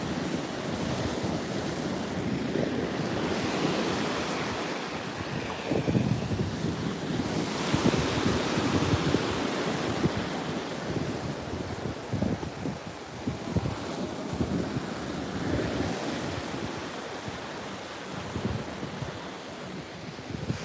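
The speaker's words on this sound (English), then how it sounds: "Today the sea is not so quiet" Sea surf breaking on a shore near Gibraltar in blustery weather, a steady loud wash of waves with swelling surges and constant wind buffeting the microphone, no voices.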